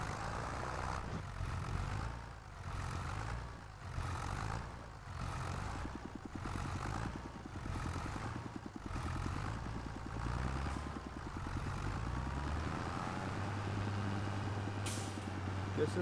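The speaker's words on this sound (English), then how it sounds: "Apparently my tractor is stuck in reverse now." Farming Simulator 25 tractor stuck in reverse: a low, rhythmically pulsing engine throb with a rough, chugging texture that settles into a steadier hum near the end.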